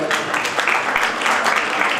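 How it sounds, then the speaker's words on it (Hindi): An audience claps with brisk, dense applause for a couple of seconds, close and continuous, at an award ceremony. "उधर तालियां बजाएं"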